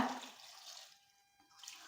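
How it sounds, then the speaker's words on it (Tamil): Water poured into a cooking pot of salted potatoes for boiling, a short, faint splashing pour that tapers off. "உருளைக்கிழங்கு வேக வைக்கிறதுக்கு தண்ணி சேர்த்துக்கோங்க"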